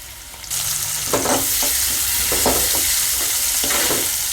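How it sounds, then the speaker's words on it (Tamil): Onions sautéing in a pan for a curry: a loud sizzle bursts in after a brief quieter start, then holds steady while spatula stirs scrape through it every second or so. "வெங்காயம் நல்லா வதங்கி வந்துருச்சு"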